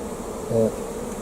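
Honey bees buzz at an opened, smoked hive, a brief soft drone with one nearby bee swelling louder for a moment over a faint background hum.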